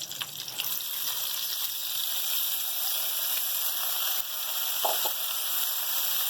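Green chillies dropping into hot oil in a home kitchen, giving a steady broad sizzle and hiss with a few faint clinks of utensils, no voices.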